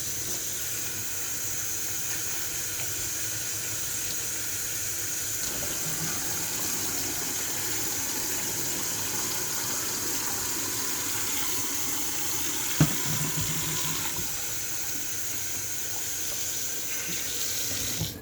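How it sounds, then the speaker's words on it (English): Warm tap water runs steadily into a sink while gloves are washed under it, a constant close hiss and splash with a brief clunk partway through. "I just wash them with warm water here."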